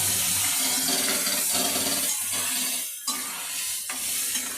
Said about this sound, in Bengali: আমের সসটা দিয়ে দিলাম কড়ার মধ্যে।